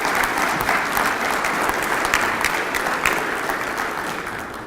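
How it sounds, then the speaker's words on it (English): Audience at a Texas aviation conference applauding for Mark Williams, a full, steady round of clapping filling the room and tapering slightly toward the end. "please give a warm round of applause for Mark Williams"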